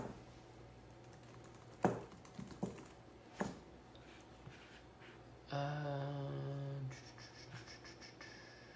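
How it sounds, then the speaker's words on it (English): Typing on a laptop keyboard, with scattered sharp key taps at first and then a brief burst of steady clicking, over a faint hum. "Let me see if I type this in."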